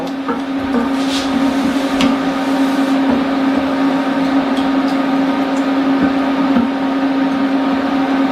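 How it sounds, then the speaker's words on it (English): A small stove burner roars steadily under a pot at a rolling boil of eggs, a loud constant hum with no pauses and no voices over it. "I hope this little burner does not put off a lot of noise for you."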